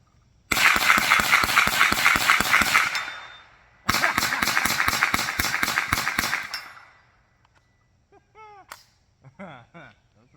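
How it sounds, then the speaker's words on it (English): .22 firearms emptied in rapid magazine dumps outdoors, two loud bursts of quick, evenly spaced shots a few seconds apart, followed by quiet with faint voices. "This time I'm doing a true mag dump."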